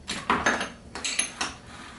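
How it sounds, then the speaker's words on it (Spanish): Ingredients for homemade southern-style longaniza sausages being stirred in a bowl, giving several light clinking and scraping knocks of a utensil against the dish, close and fairly quiet, with no talking. "Vamos a revolver los ingredientes bien."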